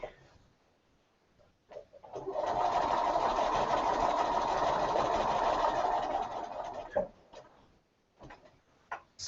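A sewing machine stitches steadily while machine quilting, tacking down the inner part of the fabric. It runs in one continuous close, loud burst of about five seconds, with quieter handling noises before and after.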